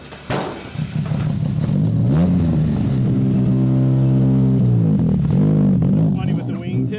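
A race car engine revs hard through a loud exhaust at a 24 Hours of Lemons endurance race at Pitt Race, climbing and holding a raspy tone before dropping back, close and dominant.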